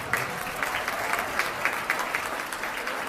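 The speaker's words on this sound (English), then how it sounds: "Let's give those bidders a big round of applause" A fundraising event audience claps for bidders, a fairly quiet but steady round of applause with distinct nearby claps popping through the room's softer clapping.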